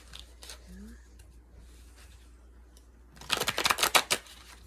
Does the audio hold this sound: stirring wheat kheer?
no